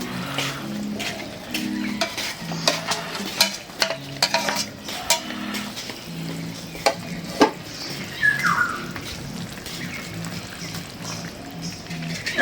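Koi fish and fried eggplant cook in a pan and get stirred. Moderate sizzling sits under intermittent scraping and clattering stir strokes, uneven in loudness, with a brief faint squeal partway through.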